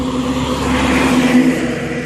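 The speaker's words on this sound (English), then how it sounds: "There goes the gas truck." A gas truck rolls past with a steady, loud engine drone that swells slightly and fades, a low rumble running throughout with no talk over it.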